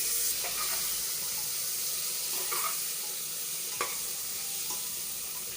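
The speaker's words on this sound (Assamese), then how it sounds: "এতিয়া মই চব্জিখিনি দি দিছোঁ।" Vegetables with turmeric, coriander and cumin powder sizzle loudly in a hot pan as a continuous close hiss, punctuated by a few brief stirring scrapes. No one talks.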